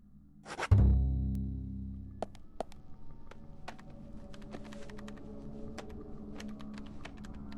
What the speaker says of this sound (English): Typing on the keys that you use the most.